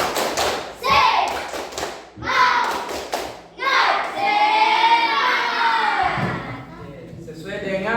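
A classroom group performs a rhythmic spirit clap, bursts of hand claps and thumps in a patterned beat, loud and near, mixed with children's chanting voices.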